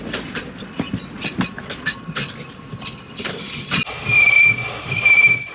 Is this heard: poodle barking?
no